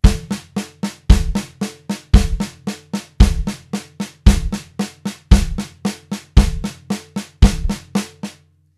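Drum kit groove of steady sixteenth notes with a bass drum thumping on each quarter note, each strong low hit opening a group of lighter strokes, close and loud with no voices.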